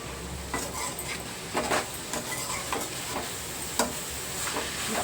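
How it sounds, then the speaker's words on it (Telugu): Chana dal being stirred into a broad bean curry in a pan, a spoon scraping in soft intermittent strokes over a low steady sizzle, close and fairly quiet. "పచ్చిశనగపప్పు వేసుకున్న తర్వాత మరొకసారి కలిపేసుకొని మూత పెట్టేసుకొని మగ్గించేసుకుందాం"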